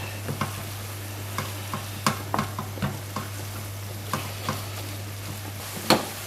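A cottage pie filling of minced beef stirred in a hot pan, with spoon scrapes and clacks in an uneven rhythm over a soft steady sizzle and a low constant hum.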